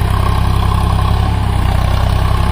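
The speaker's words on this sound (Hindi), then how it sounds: "और ट्रैक्टर चल रहा है भाइयों परम के रोटावेटर पे।" A Sonalika 745 tractor, a 50 HP model, running a Param rotavator through a paddy field being prepared for rice planting; a loud, close, steady engine drone with a pulsing low throb and no voices.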